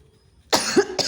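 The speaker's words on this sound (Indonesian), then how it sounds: "Maaf ya nak, ibu lagi batuk" A female teacher coughs in a classroom lesson, two quick, loud, close coughs after a near-silent moment, with no talking during the coughs.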